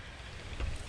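Strong wind buffets a microphone outdoors on a construction site, a steady broad rushing roar with a heavier low gust thumping in near the end.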